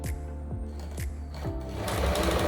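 A Janome 392 sewing machine stitches a decorative pattern with a steady rhythmic whirring and periodic thumping needle strokes, loud and close, picking up speed toward the end.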